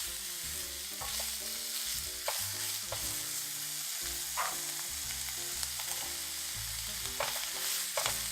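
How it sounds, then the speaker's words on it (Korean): Shrimp frying in a hot pan for banh xeo, a steady bright sizzle running throughout with occasional soft stirring clicks and scrapes, close and continuous. "새우도 넣어서 익혀줄게요"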